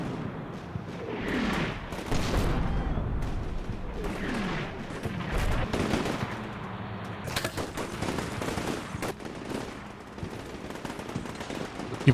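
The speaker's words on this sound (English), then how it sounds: "And we keep putting some artillery down into the middle." Artillery barrages and machine-gun bursts from the video game Combat Mission Shock Force 2, with rattling automatic fire and dull booms rolling continuously at mid distance, dense and layered throughout.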